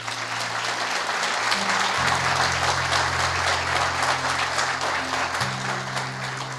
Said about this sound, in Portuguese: Alguém pode aplaudir ele?